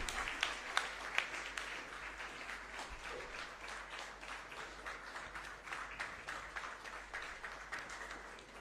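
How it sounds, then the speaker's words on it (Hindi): A ceremony audience with dignitaries present breaks into sustained applause, a dense, steady wash of clapping from many hands with a few louder claps early on, held evenly throughout. "जोरदार तालियां इस अवसर के लिए।"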